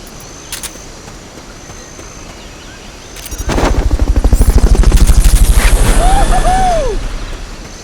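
A helicopter in the Metal Gear Solid: Peace Walker video game swells in after a quiet stretch, its rotor thumping in a fast, loud steady beat before easing off slightly, with a faint sweeping game tone over it.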